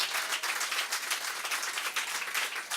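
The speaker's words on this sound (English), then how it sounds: "let's give one more round of applause for this amazingly" An audience applauds a performing group at a live music show, a dense, steady wash of many hands clapping that holds at an even level throughout, with no voices above it.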